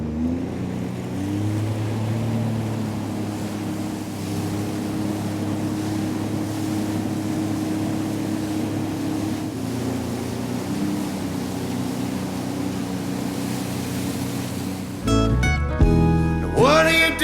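A Sea-Doo RXP jet ski cruises across Lake Taupo's Western Arm, its engine droning steadily and loud without a break, water rushing beneath the hull, with a sharper surge of motor and spray near the end.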